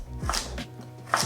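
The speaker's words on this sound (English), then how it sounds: "How I like to cut the carrot, this is completely up to you." A knife chops through a carrot on a board, cutting it into finger-sized pieces for homemade kimchi; a few crisp, close cuts land at uneven intervals.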